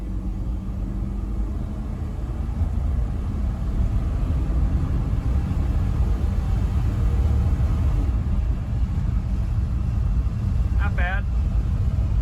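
A 1962 Ford Fairlane 500 floored at full throttle gives a continuous deep rumble heard from inside the cabin, with a person speaking briefly over it.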